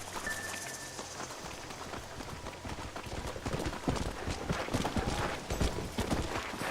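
Horse hooves clip-clop steadily beneath a rider in the Western video game Red Dead Redemption, with a busy rhythmic patter of hoofbeats that grows somewhat louder and denser partway through.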